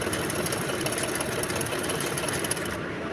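A sewing machine stitches elastic onto palazzo fabric at a long stitch length, its steady fast mechanical whirr running continuously and close up, without any talk.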